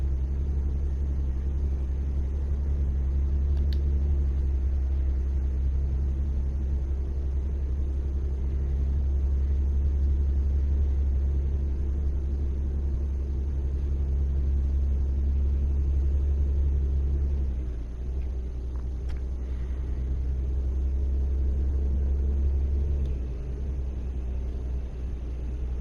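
A truck in an open-world driving game climbs uphill under full throttle, its engine a steady, loud low drone with a constant rumble that dips briefly near the end.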